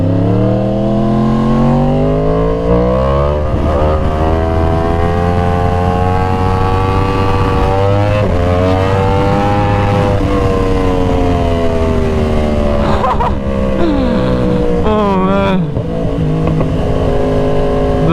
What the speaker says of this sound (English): The Crossplane R1 and the RSV4 1100 factory, hands down, have the best sounding motors.